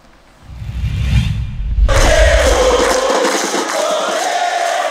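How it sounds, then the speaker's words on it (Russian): A huge Argentine stadium crowd roars, then breaks into loud, sustained sung chanting of "Ole" that fills the space. "Многотысячные толпы болельщиков взрываются победным «Оле»."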